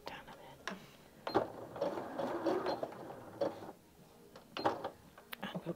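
A Janome 740DC sewing machine runs in short bursts of rapid stitching, stopping and starting at close range. Soft talk sits between and under the quiet mechanical runs.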